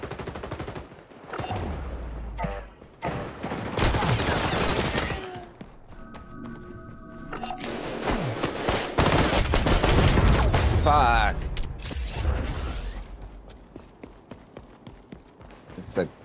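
Rapid bursts of gunfire from a gun in the XDefiant video game, dense and loud, mixed with other game sounds and a voice talking over parts.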